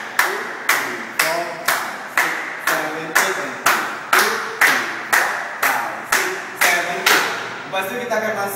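Sharp hand claps for a Joget dance step, about a dozen evenly spaced loud claps in a steady counted rhythm, close and crisp, each with a short ringing tail in a room.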